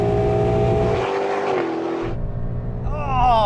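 A Ford Mustang and a Bowler Bulldog, both with 5.0-litre V8s, roar loudly through a rolling drag race, the engine note rising and shifting as they pull away. The car noise is continuous and dominant.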